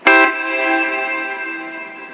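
A Quilter guitar amplifier rings out one struck guitar chord with long reverb, a bright attack followed by a steady, slowly fading wash of sustained tones that carries on to the end.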